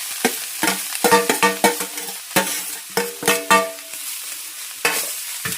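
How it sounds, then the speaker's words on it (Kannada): Ground coconut mixed with sugar is stirred in a pan over low flame, giving a series of close, uneven scraping and clattering strokes with brief pauses between them and no talk. "ಈ ಥರ ಎರಡನ್ನು ಕೈ ಆಡಿಸ್ತಾ ಇರಬೇಕು."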